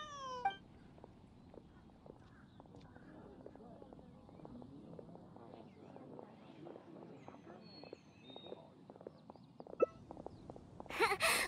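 Cats meow in the video game Genshin Impact: one short meow near the start and another burst at the end, with soft rhythmic tapping steps in between at low volume.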